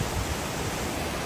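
A waterfall rushes as a dense, continuous roar of broadband noise, close and steady with no pauses, over a very short stretch.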